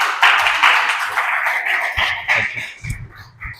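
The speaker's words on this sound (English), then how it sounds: "Let's give a round of applause to Gautam." Audience clapping at a builders meetup for an Ethereum community, welcoming a startup founder; a loud, close round of applause that thins out into scattered claps with some thumps toward the end.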